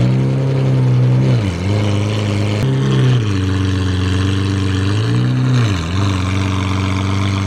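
A loud Lamborghini Aventador revving hard: a deep, close, roaring engine rises and falls in repeated blips, with sharp drops between the revs, and no voices.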